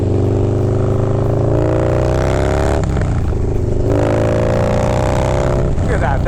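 A Harley-Davidson Milwaukee 8 motorcycle engine with an aggressive cam, heard while riding: a loud, continuous deep rumble that rises in pitch, dips, and climbs again with wind noise throughout.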